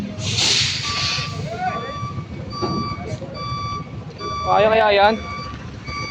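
Reversing beeps from a truck backing up, a short rising-and-falling series of beeps near the end over hissy outdoor background, with someone speaking briefly.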